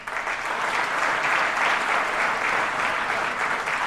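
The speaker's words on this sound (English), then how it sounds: "so let's give them a round of applause." Sustained applause from an audience for nurses at a council member's public event, dense and even clapping from many people, loud and unbroken for several seconds with no talk over it.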